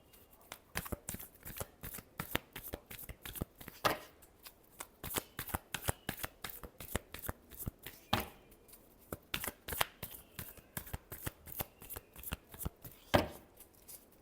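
Tarot cards are shuffled continuously by hand, producing a rapid rhythmic riffle of crisp papery flicks with a few louder slaps, close and clear, with no voices.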